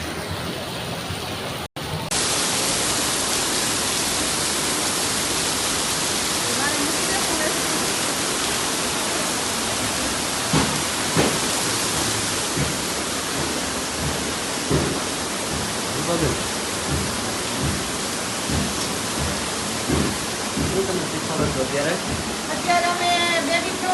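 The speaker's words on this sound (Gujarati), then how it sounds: "મસ્ત વરસાદ આવે છે" Steady rain pouring in Laxmannagar, a dense continuous hiss of falling water heard close and loud throughout, with scattered drips and faint patters, no voices.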